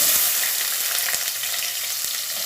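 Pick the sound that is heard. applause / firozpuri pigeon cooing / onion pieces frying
onion pieces frying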